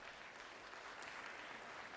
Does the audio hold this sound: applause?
yes